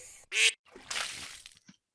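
A duck quacking from a video played on a classroom sound system, two loud nasal calls separated by a brief pause, then a faint short trailing sound.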